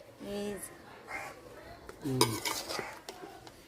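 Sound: turning cauliflower in a cooking pan

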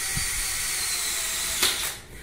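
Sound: drilling holes in blindex glass shower panel

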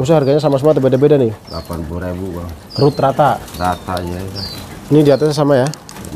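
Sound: caged birds calling at a bird market

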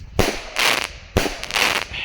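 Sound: Roman candle fireworks firing

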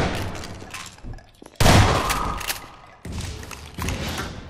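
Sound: grenade explosions in video game Half-Life 2 Episode 2

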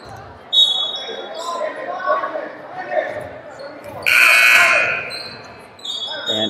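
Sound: inadvertent buzzer at a junior high basketball game

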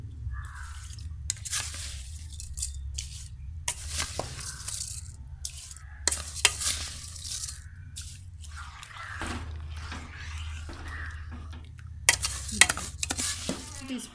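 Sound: rice cooking in boiling water for egg biryani

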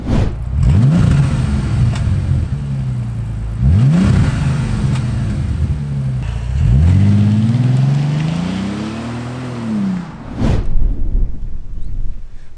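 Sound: Bentley Continental GT W12 engine revving with standard exhaust

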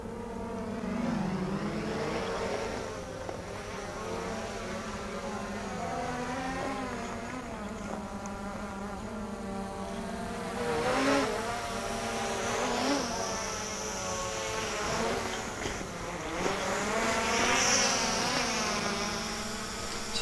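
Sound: Hubsan Zino 2+ drone flying

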